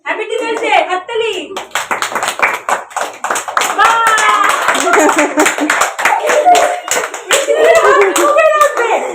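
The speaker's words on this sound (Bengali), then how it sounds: "হ্যাপি টিচার্স ডে, হাততালি।" Small children clap their hands at a Teachers' Day celebration, loud and close, a dense patter of claps under excited kids' voices and an adult talking throughout.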